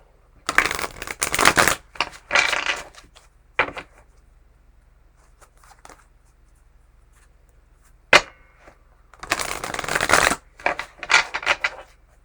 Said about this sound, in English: the shuffling didn't even feel right